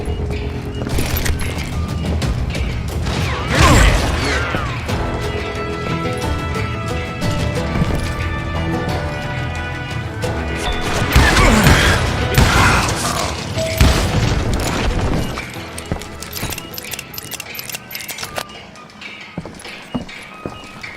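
Gunfire and explosions ring out in the Call of Juarez: Gunslinger video game, with loud booms and cracks over galloping horse hooves and clattering debris, busy and dense before thinning out toward the end.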